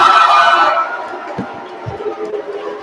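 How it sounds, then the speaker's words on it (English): Applause and cheering at the close of a university matriculation ceremony in Nigeria start as a loud crowd roar, then thin to quieter scattered clapping with occasional thumps. "with that tremendous applause"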